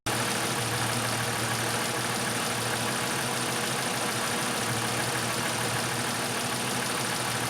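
A Jeep Cherokee XJ engine idles steadily at close range, with a constant rumble and no voices, while a faint ticking runs through it.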